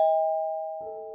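A two-tone electronic doorbell chime at a front door rings once, a high steady tone followed by a lower one, clear against silence.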